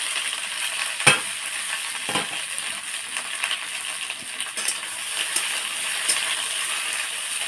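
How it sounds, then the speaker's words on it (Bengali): Snake gourd (chichinga) pieces fry in hot oil, giving a steady close sizzle broken by a few sharp clinks and stirring knocks. "তেলটা আমার গরম হয়ে গেছে, এবার আমি চিচিঙ্গাগুলো এর মধ্যে দিয়ে দেবো।"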